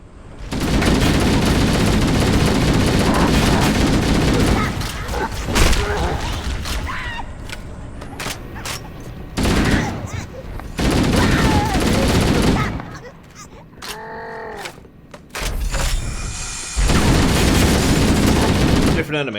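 Gunfire in the shooter Halo: Combat Evolved, long stretches of rapid automatic shots with booms and mechanical clanks, broken by short quieter gaps, with a voice talking at times.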